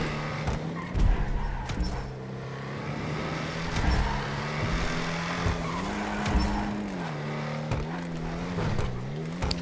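A car engine drones steadily through a race in Los Santos Tuners, its pitch rising and dipping as the throttle is worked, with occasional tire squeal and skidding.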